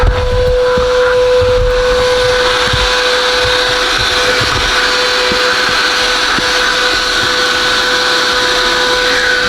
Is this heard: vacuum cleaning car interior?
yes